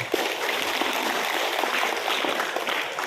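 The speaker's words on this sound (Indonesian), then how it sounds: "Berikan aplaus untuk kita semua" Meeting attendees at a coordination meeting applaud, a dense steady clapping from a crowd lasting the whole stretch.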